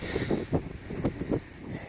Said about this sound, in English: It's incredibly windy here.